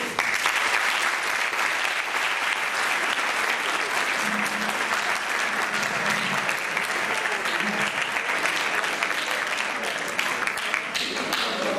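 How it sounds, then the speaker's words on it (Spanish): An audience at a tribute event in Tomelloso applauds a speaker, dense sustained clapping from a large room that carries on evenly for about twelve seconds, with a few faint voices underneath. "pido un fuerte aplauso para José Belmonte"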